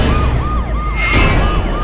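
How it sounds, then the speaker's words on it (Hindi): An ambulance siren wails loudly and close by in a rapid, repeating rising-and-falling pattern. "सर मैंने एम्बुलेंस बुला ली।"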